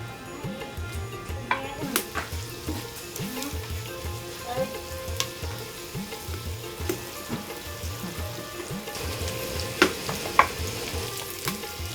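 Onion, garlic, ginger and cumin pastes fry in a pot for a hot-and-sour mutton rice dish, with a steady sizzle, repeated stirring scrapes and occasional clinks of a spoon.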